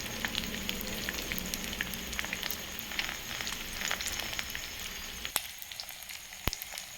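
An omelette with a little turmeric fries on a low flame, giving a soft continuous sizzle and crackle with a couple of sharp ticks near the end, no talking.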